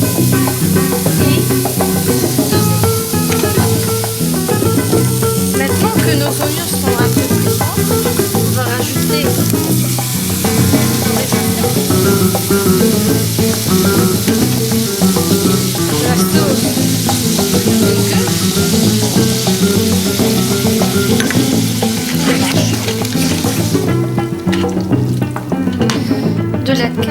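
Couscous vegetables with a little sugar cooking in a pot and being stirred. A loud, dense sizzle of frying goes on continuously for the whole stretch, close up, with no talking over it.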